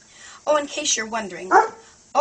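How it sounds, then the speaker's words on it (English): A dog barks a couple of times in short bursts while someone talks over it, close by. "that's my dog."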